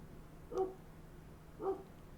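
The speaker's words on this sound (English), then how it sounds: "Dog next door is barking." A dog next door barks twice, a second apart, each bark muffled and distant over a low steady hum.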